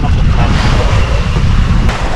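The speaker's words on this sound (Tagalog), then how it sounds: "Hindi lang alon oh. Alon at agos." Sea waves and current surge around a fishing boat out at sea, a loud continuous churning roar with heavy low rumble and wind buffeting close to the microphone.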